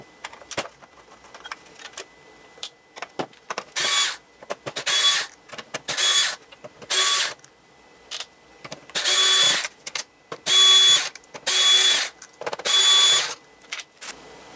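Screws being taken out of a fat PlayStation 3 console, including thick heat-sink screws: a run of short, bright whirring bursts from a screwdriver, about eight evenly spaced spins close by, with small metallic clicks between them and no talk.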